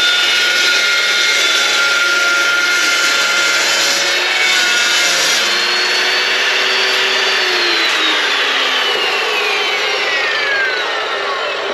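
A miter saw cuts through steel at a 45 degree angle, a loud, sustained high whine and grinding rasp for about twelve seconds with no pause.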